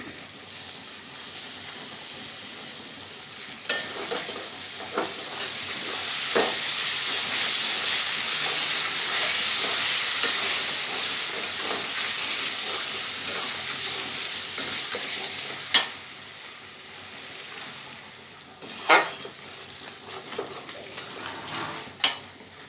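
Spice paste with sugar, ground rice, almond paste and tomato paste frying and stirred in a pan with a little water, a loud steady sizzle and hiss with occasional sharp scrapes of a spatula, no talk.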